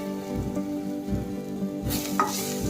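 Tomatoes with coriander frying in a pan, a steady close sizzle and crackle running throughout, brightening and growing louder toward the end, with no voices.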